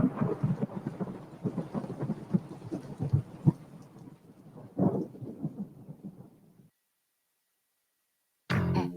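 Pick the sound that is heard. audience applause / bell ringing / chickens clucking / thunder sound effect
thunder sound effect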